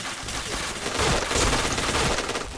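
Rapid gunfire in a video game, with dense bursts of automatic shots crackling loudly and continuously for a couple of seconds.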